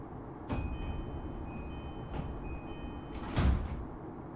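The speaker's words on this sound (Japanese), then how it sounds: "4番線ドアが閉まります、ご注意ください。" In a BVE5 train simulator of a JR Keiyo Line rapid E233-5000 series train, the doors close with a few sliding thuds and clunks over a steady cab hum, with a faint high chime tone between them.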